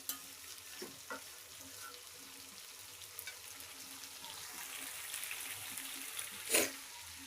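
Pigeon meat sautéing in a pan until the oil separates makes a faint, steady sizzle, with occasional soft stirring knocks and one brief louder clink.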